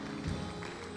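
A church congregation applauds during a sermon in one brief, dense burst of clapping with a hazy crowd wash.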